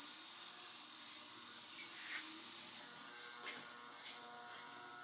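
A steady high hiss-buzz from an ultrasonic cleaner working on a chainsaw cylinder, continuous and fairly even for the whole stretch, with faint small clicks and no talking.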